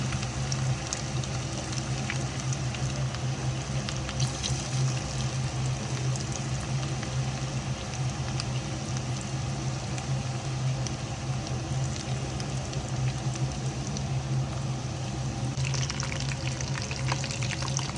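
Chicken kebab pieces fry in a pan over a medium flame, giving a continuous dense sizzling hiss that stays even and close throughout with a faint underlying hum.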